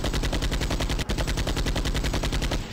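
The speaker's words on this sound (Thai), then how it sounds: "วู้ยิงปืนได้ด้วยครับ" Rapid automatic gunfire in Spintires, a fast even burst of shots with a brief gap near the middle, loud and continuous.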